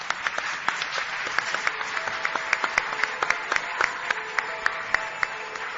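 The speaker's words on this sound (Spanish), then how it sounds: "Pido un aplauso para él, por favor." Audience applause at a live talk event, a dense steady wash of many hands clapping at moderate loudness, sustained throughout with no voices over it.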